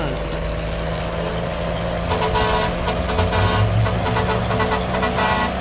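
A truck's horn honks in Farming Simulator 19, a run of short, repeated toots stacked over a loud, steady engine drone, the bursts coming in quick clusters during the second half.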